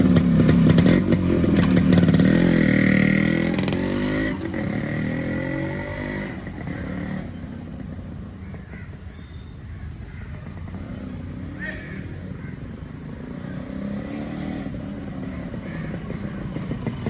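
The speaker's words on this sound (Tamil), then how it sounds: "ஸோ வாங்க வண்டி ஒரு டெஸ்ட் ட்ரைவ் பார்க்கலாம்." Yamaha RX100 two-stroke motorcycle on a test ride, its engine loud and rasping at first, then settling into a steadier, somewhat quieter drone with rough, crackling texture.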